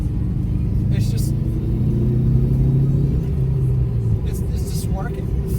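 A turbocharged Toyota Corolla engine running on a fresh tune holds a steady, close, deep rumble with a droning hum throughout, and a voice briefly comes through.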